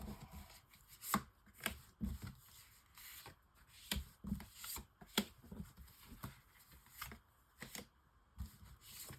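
Tarot cards are shuffled, laid down and drawn one by one for a nine-card spread, heard as faint irregular slaps, flicks and soft rubbing of card stock at close range.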